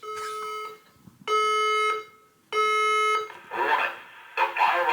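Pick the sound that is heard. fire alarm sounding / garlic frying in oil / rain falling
fire alarm sounding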